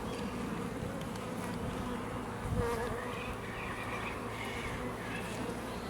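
Honeybees hum over a brood frame during a hive inspection, a faint, continuous buzz with a brief thump partway through.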